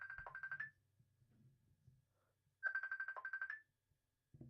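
A phone ringtone from an incoming call plays in two short melodic bursts separated by a pause, clear and close, with faint murmuring in between.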